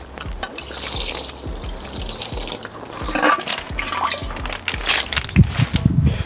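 Black nightshade (manathakkali) leaves being washed in water, with pouring and splashing sounds, a few soft drips and sloshes, close and moderately loud, with no talking.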